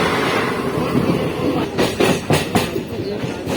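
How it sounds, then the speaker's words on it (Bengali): A train pulls into Patuli station, a loud close rumble of wheels on track with rhythmic clacks over the rails and a steady roar throughout. "পাটুলি ঢুকছে পাটুলি ঢুকছে ঢুকে পড়েছে ট্রেনটা"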